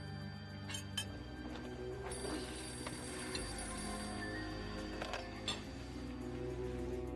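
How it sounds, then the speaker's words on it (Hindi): A telephone rings repeatedly in a steady pattern of trilling bursts, moderately loud over a constant background hum, with no talking. "बेटा फोन उठाओ।"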